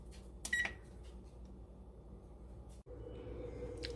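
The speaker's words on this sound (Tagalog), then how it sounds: "We're gonna set the oven to bake at 350 degrees." A kitchen oven being set to bake at 350 degrees gives a single short electronic beep, faint and brief, followed by a low hum from the appliance in a quiet room.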